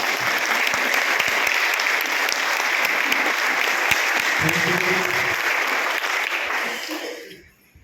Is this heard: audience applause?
yes